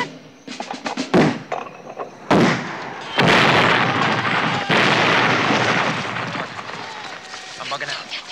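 Artillery fire in a 1978 Vietnam war film scene: heavy booms and explosions burst out one after another, loud and near, some overlapping, with shouted voices and combat noise around them.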